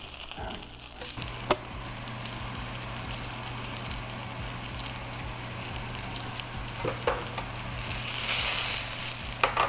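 Potstickers sizzle in a very hot frying pan, a steady loud hiss with a brief clatter or two and a rising burst of spatter near the end.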